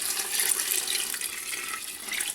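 A couple of litres of water pour steadily into a cooking pan for a medieval dish, a continuous hissing, splashing rush that holds at an even level throughout with no talking.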